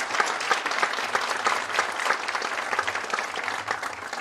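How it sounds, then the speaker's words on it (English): A crowd at the Bacon Academy Class of 2021 graduation ceremony applauds, a steady, dense wash of clapping from many hands that holds at an even level throughout, with no speech over it. "I would just like to take an opportunity to give everyone here a round of applause"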